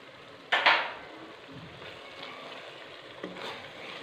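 Turmeric, dried coriander and salt being stirred into vegetables in a frying pan for chunga sabzi, with a loud utensil scrape against the pan, soft sizzling, and a second fainter scrape near the end.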